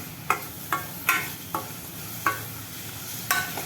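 Banana sautéing in ghee with jaggery in a pan: about six sharp spatula scrapes and taps land at uneven intervals over a low, steady sizzle, close by, with no talking.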